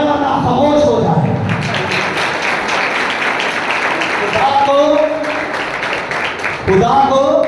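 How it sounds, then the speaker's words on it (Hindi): A church congregation applauds during a sermon, a dense spread of hand claps rising and falling under a preacher's voice that talks over it. "खुल के तालियां बजाए वरना खामोश हो जाए।"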